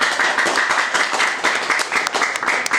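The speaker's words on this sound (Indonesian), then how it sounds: "Oke, tepuk tangan dulu buat" An audience at a village development program presentation bursts into applause, a dense, steady patter of many hands clapping at close range with slight rises and dips in loudness throughout.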